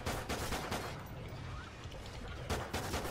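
Rapid bursts of automatic gunfire in a video game's Extinction mode, loud clusters of shots with a brief lull in the middle before the firing resumes.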